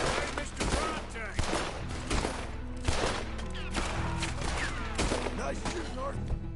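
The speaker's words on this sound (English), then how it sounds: "Nice shooting, Arthur." Frontier gunfire in Red Dead Redemption 2 rattles out as a dense volley of close shots, rapid overlapping cracks layered with faint voices and a busy background.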